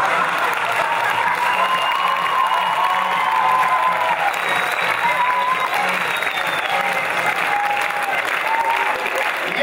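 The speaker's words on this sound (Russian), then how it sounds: "Ваши аплодисменты." A crowd at a KVN comedy show gives sustained, even applause with some cheering, a dense roar of many hands clapping that holds steadily, loud and close, throughout.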